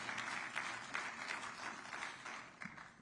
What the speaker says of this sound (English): Can we all hear a round of applause for President Trump